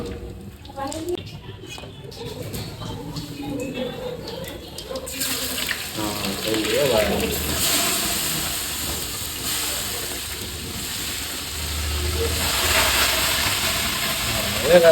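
Hot oil for fish biryani sizzles in a pan with a steady, loud hiss that swells as it goes. Someone talks over the sound.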